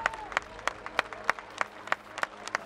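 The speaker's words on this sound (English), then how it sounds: "So, applause for her." Applause for a French fighter at a Battle of the Nations medieval combat event, heard as sparse, evenly spaced individual claps, a light rhythmic patter from a small crowd with no voices.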